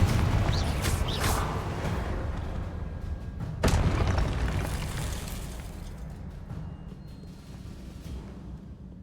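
A spell blast goes off in the Hogwarts Legacy game, a sudden sharp boom at mid-clip over a rumbling, busy bed of game sound that slowly fades, with no voices.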